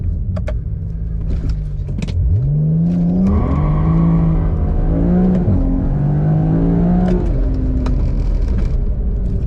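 A BMW E92 335i with an N54 engine launches, revving hard, its pitch climbing through several gear shifts as it accelerates loudly, with no talking.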